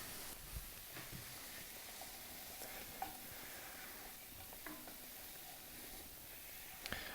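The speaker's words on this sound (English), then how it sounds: "I'll just give them a quick stir in" Herbs and spices being stirred into biryani in a pan, a faint, steady sizzle with occasional soft scrapes and light clinks, quiet and without speech.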